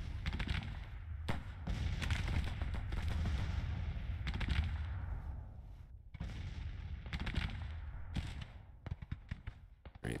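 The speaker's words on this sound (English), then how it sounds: "Here, fire on him. Canister fire." Canister artillery fire in the Civil War strategy game Grand Tactician, with a rapid series of sharp gunfire cracks and booming volleys arriving in clusters, fairly faint overall, separated by short pauses of rumbling battle noise.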